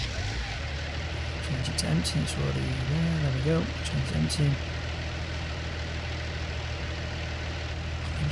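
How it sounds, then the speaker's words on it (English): A tractor engine in Farming Simulator 19 idles with a steady low hum throughout, running beneath someone talking for most of the stretch. "let's turn the engine on"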